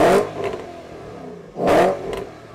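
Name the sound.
Porsche Panamera sport exhaust revving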